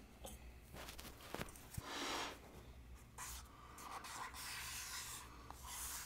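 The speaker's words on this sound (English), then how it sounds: "wipe again with the acetone." A cloth soaked in acetone is rubbed across the braced top of an archtop guitar. It makes soft, close swishing strokes in several separate passes, faint and with no talking.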